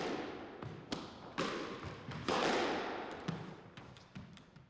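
A squash ball is struck with a straight drive and knocked against the court walls, making sharp, irregular thumps and taps with a fainter reverberant wash between the hits.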